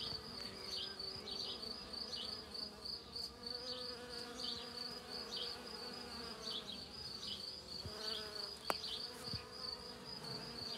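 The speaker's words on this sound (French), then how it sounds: "Regardez, il me reste encore toutes mes abeilles, elles sont encore là dessus. Je vais me taire 2 secondes et vous allez écouter le bruit." Bees and other insects buzz steadily around a flowering ornamental garden shrub in the evening, a close, continuous drone with individual insects passing near.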